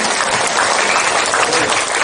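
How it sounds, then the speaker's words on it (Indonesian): Steady, dense applause from a market-stage audience honoring the coconut traders' community of Pasar Kutoarjo, a continuous wash of many hands clapping at full loudness throughout with no gaps. "Saya minta tepuk tangan dulu dong buat KPK-nya luar biasa"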